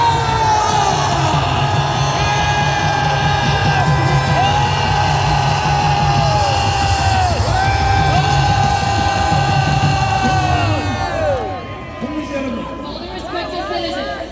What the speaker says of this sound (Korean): 김남국 목사님을 기립 박수로 모시겠습니다